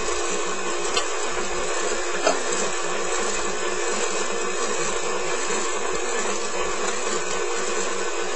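An electric mixer whirs steadily while mixing doughnut dough with butter and milk, a continuous motor hum with a rattling low rhythm, close and alone.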